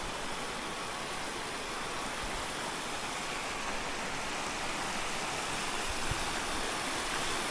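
A strongly flowing village stream with mossy, slippery water rushes steadily toward the Narmada river, a dense, constant broadband roar with no breaks, close and loud.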